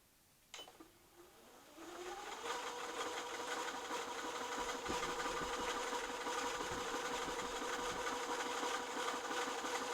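An Elna Star sewing machine stitches a buttonhole: a sharp click, then the motor spins up into a steady, close mechanical whir that runs evenly for several seconds.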